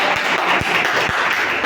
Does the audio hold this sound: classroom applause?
yes